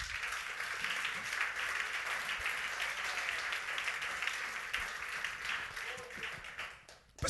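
A church congregation at a French-language sermon breaks into sustained applause, dense and steady clapping from a large crowd filling the room, with a few cheers mixed in, tapering slightly near the end.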